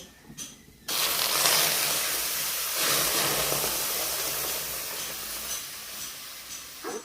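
Milk poured into a hot pan of kuli pitha in a village kitchen gives a sudden loud, steady steaming hiss that carries on for several seconds before easing off.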